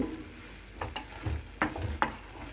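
Water apple jam being stirred in a pan over a low flame, a soft bubbling sizzle broken by a few scraping strokes and light knocks of the spoon against the pan.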